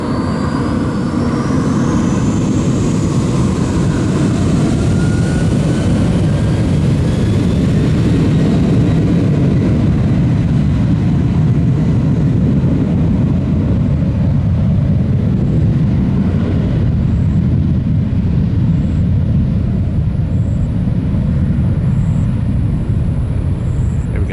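An MD-80 jet airliner landing at Tampa airport, its engines a steady loud roar with whining tones close by, plus strong wind buffeting throughout and no talking.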